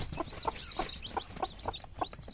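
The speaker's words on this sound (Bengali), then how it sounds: "একটা মুরগিতে বাচ্চা ফুটাইছে, দেখতে পাচ্ছেন বাচ্চা নিয়ে আছে" A hen with her chicks on a farm at night gives a rhythmic run of soft clucks, roughly three per second, close by, with faint high peeps from chicks.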